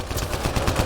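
Rapid gunfire in the video game Mass Effect Andromeda, a quick burst of repeated shots close and loud, filling a short moment.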